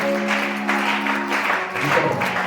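A church congregation applauding and cheering in praise during a service, steady clapping with a sustained tone over it for a couple of seconds.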